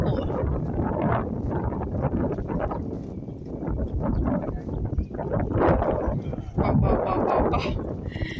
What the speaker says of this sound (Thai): ลมเพราะลมลมเย็นสบายดี สงสัยพายุจะเข้า